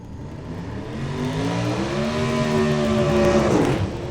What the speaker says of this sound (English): doing the burnout with the small block powered S10